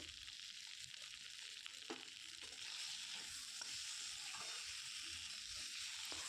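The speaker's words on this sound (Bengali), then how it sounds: "তো সব কিছু দিয়ে আমি এটাকে ভালো করে নেড়ে চেড়ে কষিয়ে নেব" Small bata fish curry with cauliflower and potato fries in a pan with ginger-garlic paste and cumin and coriander powder, giving a soft, continuous sizzle broken by scraping stirs.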